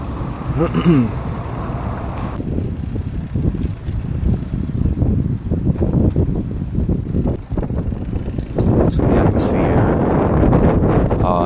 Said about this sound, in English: The wind is incredible. I mean, it's so windy.